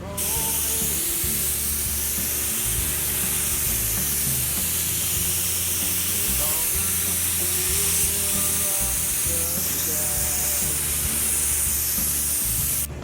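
A spray gun lays down the final paint coat on a SEMA build vehicle, making a continuous loud hiss over a low compressor-like hum throughout.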